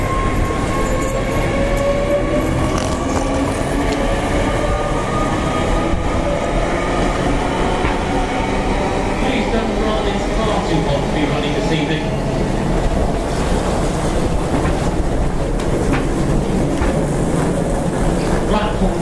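A train idles at a rural station platform in Swindon, England, giving a continuous loud low rumble with faint tonal hums and occasional metallic ticks and no pauses.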